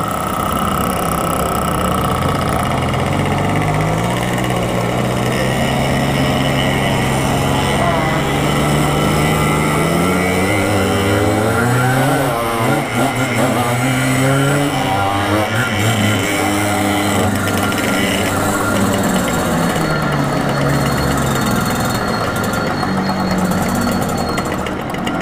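A motorcycle engine-brakes down a slope on a rural Portuguese road while its brakes are worn, producing a continuous, fairly loud rumbling drone whose pitch rises and falls gently for about twenty-five seconds.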